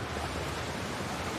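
Continuous watery wash of flowing water through stale sewer tunnels in The Last of Us Part II, a steady broadband rush with no speech over it.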